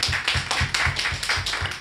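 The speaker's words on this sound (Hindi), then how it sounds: "एक बार तालियां बजाकर मन दें" An audience at a Hindi poetry gathering claps in a rhythmic, evenly spaced pattern, a short burst of beats in unison without any talking.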